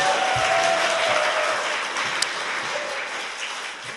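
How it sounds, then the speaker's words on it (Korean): Sustained applause from a studio audience, a steady wash of clapping that gradually tapers off, with a faint voice briefly underneath. "박수!"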